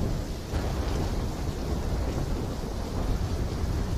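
Thunderstorm in Call of Duty Black Ops 3, a continuous heavy wash of rain with a low rolling rumble of thunder underneath, steady and dense throughout with no voices.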